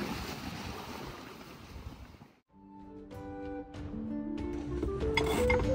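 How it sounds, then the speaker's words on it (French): Strong wind roars over the open sea with surf during an Atlantic crossing toward Cape Verde, drops out briefly, then returns along with a low steady hum. "attention, il y a du vent."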